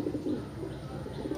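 A female pigeon in a loft gives low, continuous cooing over steady background hum, close and moderately loud, with no talking.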